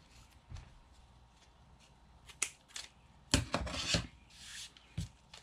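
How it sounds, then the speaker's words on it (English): Scissors trim ribbon on a craft embellishment, giving a few quiet, separate snips and rubbing rasps, with the loudest cuts clustered near the end and long soft pauses between them. "I'm going to come back with my scissors. And I am going to just trim off some of this ribbon"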